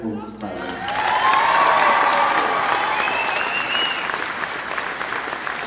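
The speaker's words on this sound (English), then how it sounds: "I'd like to thank you for round of applause for Mr. Lynch and the rest of the speakers" A large crowd at a high school graduation claps steadily after a brief voice, loud sustained applause with a few cheers and a whistle carrying through.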